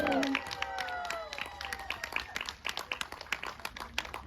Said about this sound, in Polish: ostatni raz proszę o wielkie brawa